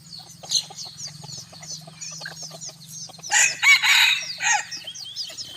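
Scattered clucks and chirps lead into a single loud, nearby crow from a bantam rooster in the warm evening, followed by a few quieter calls.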